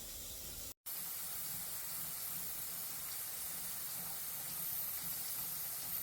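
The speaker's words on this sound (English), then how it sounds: "They're both steaming pretty good." Steady broadband hiss of a pressure canner venting steam while processing sweet corn, continuous and fairly loud, with a brief dropout near the start.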